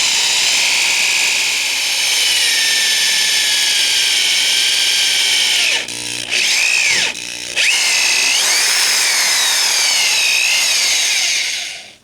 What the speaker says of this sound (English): Let's see if I can see it when that drill bit pops through.